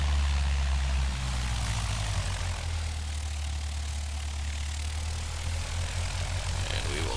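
A small propeller aircraft in X-Plane 10 taxiing on the ground, its engine droning steadily at low idle with a constant low hum throughout, heard alone with no talking.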